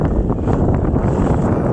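Loud, steady wind of about 9 mph with gusts to 17–18 mph buffets the microphone aboard a sailboat, a continuous roaring rush with no voices.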